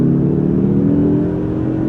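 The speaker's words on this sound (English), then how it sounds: "I'll give it some brake boosting off the line and letting it go" A 2024 Mazda 3 Turbo sedan launching hard from a standstill with brake boosting, a loud, close, steady engine roar with a rising harmonic whine held through the clip.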